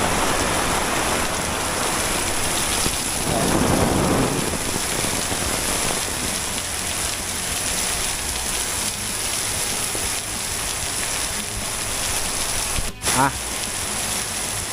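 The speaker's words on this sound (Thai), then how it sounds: "ฝนตกแรงมากเลยนะ" Heavy rain from the remnants of Typhoon Yagi pours down in Sakon Nakhon, Thailand, in a dense, steady roar throughout, with a brief sharp knock near the end.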